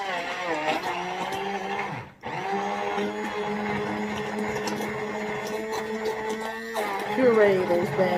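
A blender purees peaches for a lemonade, its motor whirring steadily with a brief dip in pitch partway through and then running on at a constant drone.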